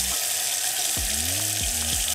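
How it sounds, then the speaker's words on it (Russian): Clean water running from a tap into a sink in a Maldives resort bathroom, a steady close rush and splash that fills the whole clip with no talking. "сейчас вода течет чистая из крана"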